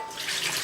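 Water splashes and rushes over sprouting salad green seeds during a rinse, a brief and soft hiss of running water with no voices.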